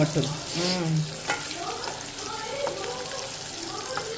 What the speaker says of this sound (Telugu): ఇది మంచిగా వేగాలన్నమాట కొంచెం వేగని వేగని